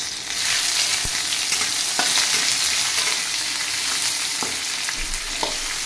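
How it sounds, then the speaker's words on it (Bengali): Chopped onion dropped into hot oil with bay leaf for a lightly spiced potato and tomato dish, giving a loud, continuous close sizzle with a few faint clicks of stirring. "এবার আমি দিয়ে দেবো পেঁয়াজ কুচি"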